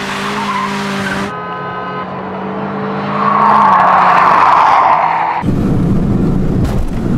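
A race car engine drones at high pitch, then tires squeal loudly in a long skid before rough thumping and rumbling take over, close and without talk.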